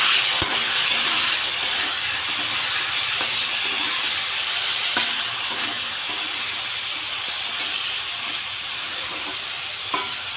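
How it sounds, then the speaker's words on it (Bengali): Curry with salt and turmeric is stirred in a pan, giving a steady close frying hiss with occasional faint clicks and scrapes of the spoon, with no voices. "দিয়ে এখন নাড়িয়ে নেব।"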